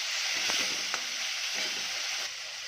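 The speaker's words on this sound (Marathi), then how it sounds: "आता हे आपण लाल तिखटची पेस्ट हे ॲड करून आहे छान असं त्याला आपण तेलावर परतून घेऊया" Garlic and red chili paste frying in oil, a loud, continuous hiss with a few soft stirring knocks that eases slightly toward the end, with no voices.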